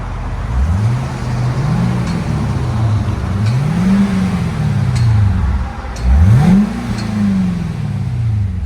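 Stock Cadillac CTS-V coupe V8 with factory exhaust, revved repeatedly: several loud, close rising-and-falling rev sweeps over a steady idle rumble, with no talking.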